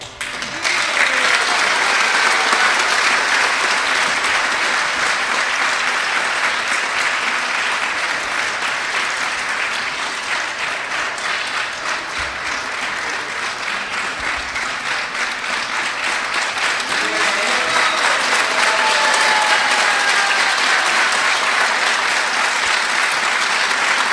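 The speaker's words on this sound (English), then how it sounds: "All the claps are for Sita and Rama and Hanumanji and Lakshmana Deva." An audience at a Ramayana talk breaks into long, sustained applause, a loud, dense patter of many hands that holds steady for over twenty seconds, with no voices over it.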